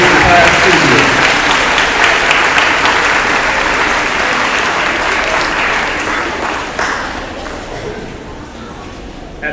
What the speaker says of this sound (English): let's give a nice round of applause to all these students that persevered this entire school year.